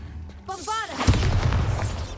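A Bombarda blasting spell detonates in the Hogwarts Legacy video game: a voice calls out briefly, then a sudden loud explosive burst gives way to a sustained rumbling roar that fills the rest of the moment.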